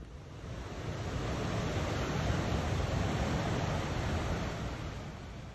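Heavy surf from high tide and giant waves pounds the shore of Fraser Island, Australia, a steady, loud broadband roar that swells over the first second, holds, and eases slightly at the end, with wind noise mixed in.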